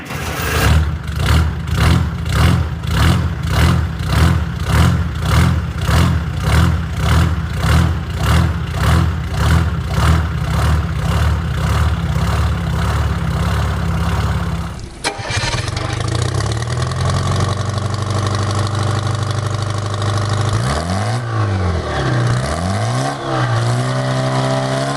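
A Detroit Diesel 4-71 two-stroke engine, the kind used in larger trucks like a 1950 GMC 750 or a highway grader, chugs in a steady rhythmic pulse before shifting into a rising and falling rev.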